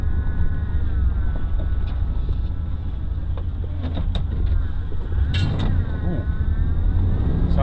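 A cheap $300 pickup truck with a suspected drive shaft problem drives along, its steady engine and drivetrain rumble loud and continuous under wind buffeting, with brief rattles and squeaks from the cab.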